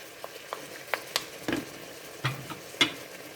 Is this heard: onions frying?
yes